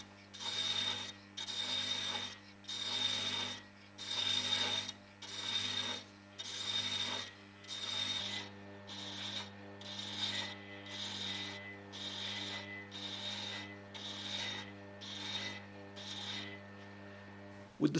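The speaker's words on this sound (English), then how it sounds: "Again, with your lathe at a low speed, strike and fully profile the thread" A metal lathe turning at low speed cuts and profiles a thread, giving a steady rhythmic series of about fifteen scraping strokes over a constant low motor hum.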